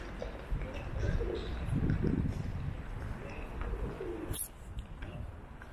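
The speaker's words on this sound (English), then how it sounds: "Hear them bleeding pigeons." Pigeons coo in low, soft, rounded phrases around the ruins of All Saints church in Pontefract, moderately close, over outdoor background noise.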